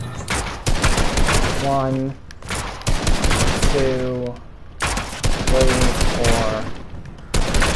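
Combat pistol shots in a video game fire in rapid clusters of sharp, loud cracks, three bursts separated by short pauses, with a voice talking between them.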